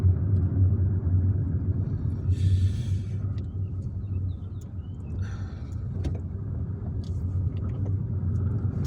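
A car drives through Algiers streets, giving a steady close interior rumble of engine and road noise throughout, with a couple of brief higher clicks or rattles over it and no talk.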